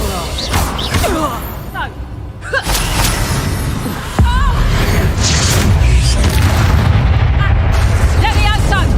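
Fiery blast spells, Confringo and Bombarda, go off in the Hogwarts Legacy video game, with booming explosive bursts, the loudest around the middle, over continuous loud battle noise while a person shouts.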